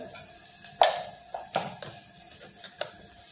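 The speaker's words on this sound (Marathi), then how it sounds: "हे सर्व आपल्याला जिन्नस परतून घ्यायचे आहेत तेलावर" Asafoetida, turmeric and red chilli powder frying in hot oil for a Marathi masoor dal, with a soft sizzle under sharp clinks of a spoon stirring against the pan.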